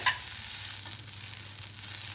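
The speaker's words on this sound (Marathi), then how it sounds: "आता हे चांगलं परतून घ्यायचं आहे आपल्याला." A pan sizzles continuously as tomato, onion and coconut sauté, with a brief clatter at the start and a low hum underneath.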